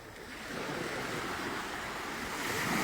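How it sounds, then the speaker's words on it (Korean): Sea waves wash steadily onto an island shore in a continuous, loud rushing surge with some wind noise, and no voices over it. "바다 소리 좋지 않아요?"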